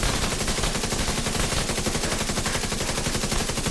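Rapid sustained gunfire from a weapon in The Division 2, a dense, continuous automatic burst rattling loudly and close for the whole stretch with no talk over it.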